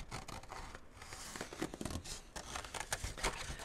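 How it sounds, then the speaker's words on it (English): Soft, close crisp snips and rustling of paper being cut with scissors, repeated irregularly, fairly quiet. "I will use these scissors."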